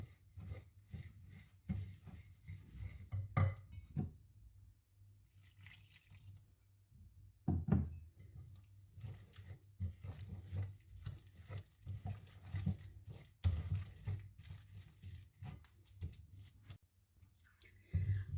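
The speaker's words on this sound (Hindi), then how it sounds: "तीन से 4 मिनट आपने अच्छी तरह इसको मिक्स करना है।" Dahi baray batter being mixed by hand in a bowl, with soft wet slapping and patting strokes repeating in an uneven rhythm, close and fairly quiet, with no talk.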